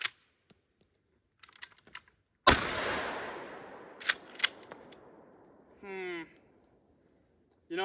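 A Mossberg pump shotgun fitted with a Boyds gunstock fires a single loud blast with a long, fading echo. A few sharp mechanical clicks come before and after it, and a brief vocal sound follows.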